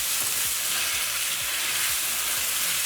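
Pumpkin and yam dumplings sizzle loudly and continuously in a hot pan while being tossed with pimento powder, a dense close frying hiss with no voices.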